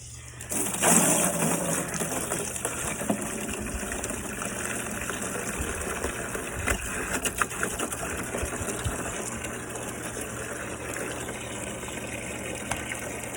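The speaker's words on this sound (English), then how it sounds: "let me grab the water hose and fill this thing up and see if it works" Steady rushing water from a hose pours into a DIY bait and live well, a continuous gushing flow with a faint mechanical hum underneath, close by and without talk.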